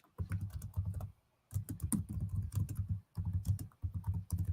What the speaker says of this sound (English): I know you tapping the keyboard.